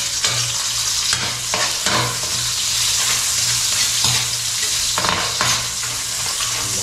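Garlic fries in a hot pan, a dense continuous sizzle close by, punctuated by repeated scraping stirs and light utensil clinks against the pan.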